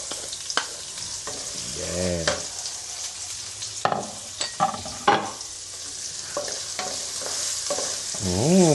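Garlic sautéing in a pan for bopis, a steady broadband sizzle with repeated stirring scrapes, plus a few brief clanks and a short hum, close and moderately loud with no talk.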